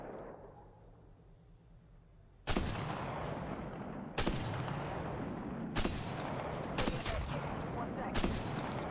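Gunfire in Apex Legends Mobile, with a quiet lull giving way to loud bursts of rapid shots in several volleys, close and sharp, over continuous battle noise.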